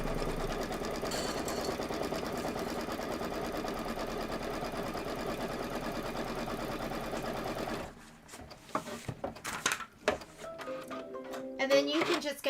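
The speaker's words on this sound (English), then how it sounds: "go ahead and hit start and let it do the quilting" An embroidery machine stitching quilting runs loud and continuous for about eight seconds with a dense, rapid mechanical chatter, then stops, leaving scattered clicks and light handling noises.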